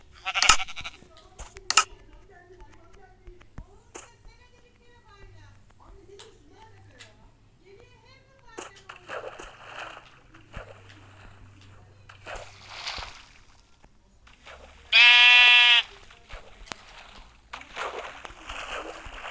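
Minecraft sheep bleat in short bursts between footsteps and other game noises, with one long loud bleat near the end; a voice talks over parts of it.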